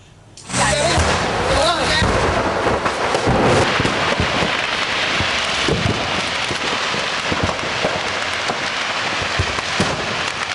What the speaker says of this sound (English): The sound of explosions continued for a long period.